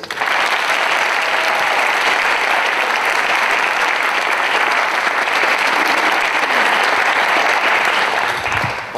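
Sustained, dense applause from a large audience honoring a group of speakers, steady and full throughout with no voices over it, thinning slightly in the final moment.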